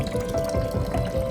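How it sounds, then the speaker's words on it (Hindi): Natural water flows out from inside rock at an old temple site by Deoghara Nala in Kathikund, a steady close trickle and gurgle with no talk over it. "देख रहे अंदर से पानी पत्थर के अंदर से ये पानी आ रहा है।"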